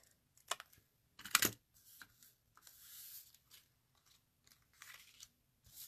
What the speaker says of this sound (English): I can take my snips and snip that side, snip this side